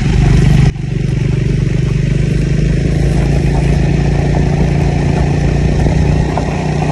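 A motorcycle riding an off-road trail: a loud, steady engine drone with rough clattering from the bumpy ground, continuous after a short jolt near the start.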